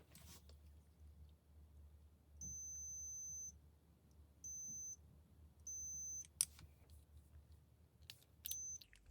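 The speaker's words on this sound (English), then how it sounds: "So you might have heard there was a beep between these two here." Multimeter continuity tester checking the resistance strips of a slot car controller, giving four short, sharp electronic beeps of uneven length over a faint background hum.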